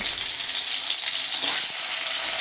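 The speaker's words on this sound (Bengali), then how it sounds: "কাঁচা কলাগুলো একটু তেলে ভেজে নেব" Raw plantain pieces frying in a small amount of oil, a steady bright hiss and crackle of sizzling heard close and continuous, with faint stirring clicks.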